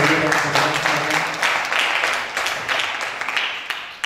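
A small group applauds at an informal Indonesian gathering, the clapping steady and moderately close, with voices and harmonic speech-like tones beneath it in the first half before the claps carry on more loosely.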